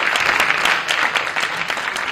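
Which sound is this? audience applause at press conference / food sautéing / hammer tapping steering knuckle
audience applause at press conference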